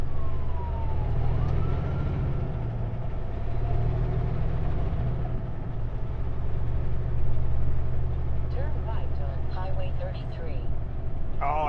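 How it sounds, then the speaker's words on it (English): A fire truck's siren wails past on a snowy road, heard from inside a truck cab over a steady low engine rumble, with a voice speaking. "That's a fire truck."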